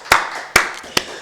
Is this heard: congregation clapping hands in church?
yes